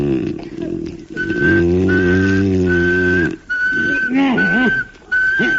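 Steady, single-pitched monotone whistling repeated in several sustained notes with short gaps, heard over a low, buzzy, harmonic snoring drone.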